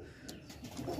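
Magnet pigeon giving a short, soft, low coo, faint and heard alone with no voices over it.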